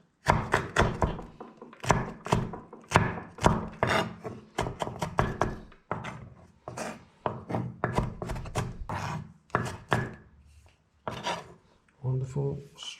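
A knife slices green peppers finely on a cutting board in a home kitchen, a fast run of close, crisp cuts with brief pauses between bursts.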